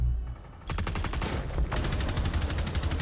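Rapid video game gunfire shooting through a wall, dense bursts of shots starting after a brief quiet moment and continuing in loud, fast succession.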